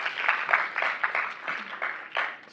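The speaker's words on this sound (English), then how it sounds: "Give them another round of applause." Audience clapping for student participants at a well-being training session, a steady patter of many hands at moderate loudness with slight swells, continuing for the whole stretch with no voices on top.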